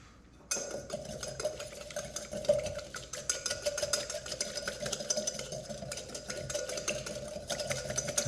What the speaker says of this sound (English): So just whisk that up.